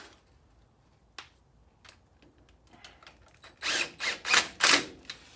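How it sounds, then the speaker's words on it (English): A power drill lightly driving screws while installing Tatum Motorsport hubs whirs in several short, rising bursts after a few faint clicks and taps, loud and close. "got our drill here to just lightly screw that on there"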